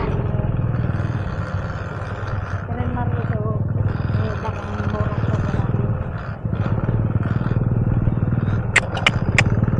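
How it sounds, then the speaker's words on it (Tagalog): A motorcycle engine strains and rumbles steadily while riding a rough, difficult road to a church, with a person talking over the continuous drone throughout. "Hirapan itong motor ko dito."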